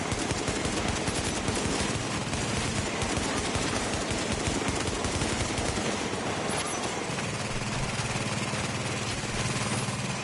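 Sustained rapid automatic gunfire from a turret in The Division, dense and loud with rattling bursts packed tightly together, easing into a lower rumble toward the end, with no voices.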